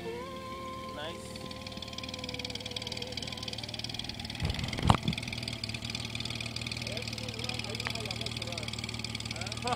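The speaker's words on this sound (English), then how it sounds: "That's a Honda Gold with a 6-cylinder." A Honda Gold Wing's six-cylinder motorcycle engine idles with a low, steady rumble throughout, with a brief louder knock midway and voices talking over it.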